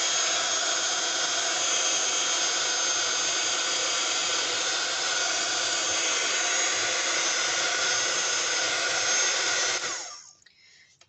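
A hot air gun on a gentle setting dries paint on leather, a loud steady blowing roar held for about ten seconds before it cuts off, with no voices.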